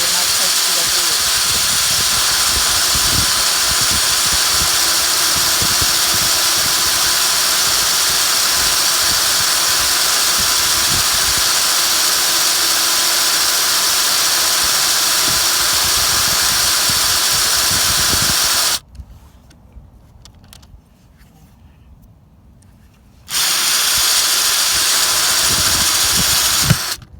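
A power drill bores a hole through a thick ceramic pot, a steady loud grinding whine running long, then cutting out briefly before starting up again near the end.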